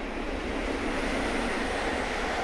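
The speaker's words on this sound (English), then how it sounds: "Until a train comes past." A broad, steady roar of a passing train, continuous rushing noise filling the whole moment at moderate volume with no gaps.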